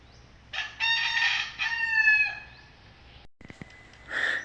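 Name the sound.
rooster crowing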